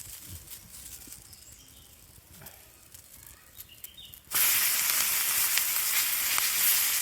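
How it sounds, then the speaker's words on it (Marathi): Two bangda mackerel fish laid into hot oil on a tawa: quiet rustling at first, then an abrupt, loud, steady sizzling hiss that carries on to the end. "तेल ओतलं गरमागरम तव्यावर. आणि आता हे दोन्ही मासे ह्याच्यावर टाकूया."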